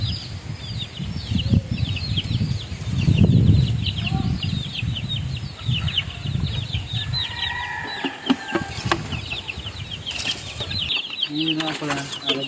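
Mother hens clucking in a backyard flock, with rooster-like calls and other fowl chatter scattered through, plus rustling and handling noise and a brief voice near the end.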